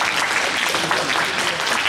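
A young adults' church service audience gives a short burst of lively applause, dense and close, with a voice briefly audible over it.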